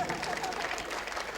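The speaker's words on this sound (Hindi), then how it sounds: "तो एक बार ताली पीटो ढंग से।" Audience applause at a Hasya Kavi Sammelan comedy poetry show in Jaipur, a fairly quiet, steady patter of many hands lasting a moment, with some crowd murmur or voices mixed in.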